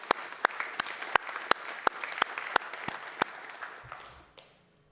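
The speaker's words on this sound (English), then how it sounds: "I'd like to just take a moment and clap and say thank you for all your support on that" A single person claps steadily at a community development association's annual meeting, about a dozen crisp, evenly spaced claps, moderately close, before fading into quiet room tone.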